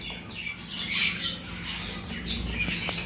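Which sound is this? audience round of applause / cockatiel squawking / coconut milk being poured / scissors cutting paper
cockatiel squawking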